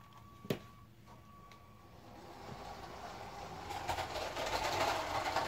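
A LEGO passenger toy train starts with a sharp click and a faint motor tone, then its whirring, rattling run swells steadily louder as it speeds along the track, close by.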